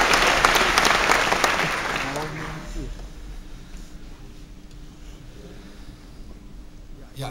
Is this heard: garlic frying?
no